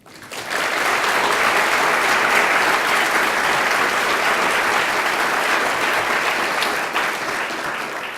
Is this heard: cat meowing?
no